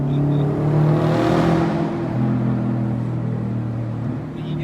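A Subaru WRX STI Type RA rally replica drives nearby, its engine droning steadily and swelling briefly into a louder rev before settling back to a constant, close rumble.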